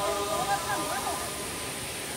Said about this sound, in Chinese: 面对瀑布深呼吸